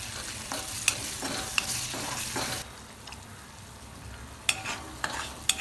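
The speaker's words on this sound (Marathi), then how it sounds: "त्याला आता फ्राय करून घ्यायचं चांगलं शिजू द्यायचं ह्याला" Onion, garlic and coriander frying in a pan give a constant soft sizzle, with sharp clicks of a spoon stirring against the pan scattered throughout; close and moderately quiet.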